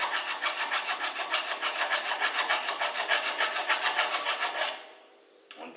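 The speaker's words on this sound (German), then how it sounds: "bisschen Handarbeit mit der Feile, hier sägen, beziehungsweise feilen" A hand file rasps back and forth across metal in a steady rhythm of about twenty close, even strokes, working on a Zündapp RS 50 moped part, then stops abruptly.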